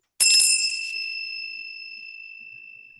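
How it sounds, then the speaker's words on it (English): A set of chimes is struck once, giving a bright metallic attack followed by clear, sustained ringing tones that slowly fade over about three seconds, heard alone. "what I have is these chimes that I got from one of my mentors"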